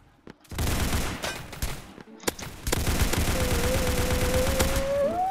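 Automatic gunfire in the Rush Point deathmatch video game hammers in dense rapid bursts after a brief quiet start, loud and close, with a tonal whine rising near the end.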